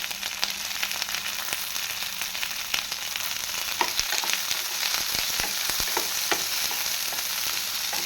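Sliced big onions sautéing in a pan for a cauliflower gravy, giving a dense continuous frying hiss with a few spatula scrapes and taps, close and even in level, no voices.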